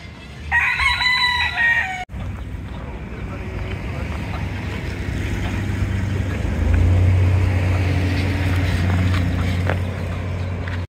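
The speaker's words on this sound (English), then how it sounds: "There's a lot of chickens out here." Rooster crowing loudly near the start on Vieques, with chickens around, then a steady outdoor wash of wind or engine rumble fills the rest.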